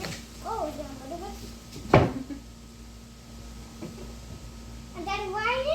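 Homemade DIY cabinet doors opened and shut, giving a sharp wooden knock near the middle with a softer thud later, while a child and an adult talk around it.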